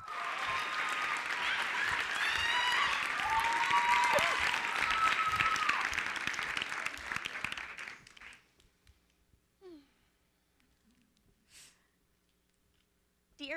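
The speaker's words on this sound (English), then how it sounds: "let's give a warm round of applause to Katherine Wright" An audience at a conference Ignite talk applauds with warm, sustained clapping for about eight seconds, then the sound stops abruptly. A few faint shuffles and small noises follow in the near-quiet room.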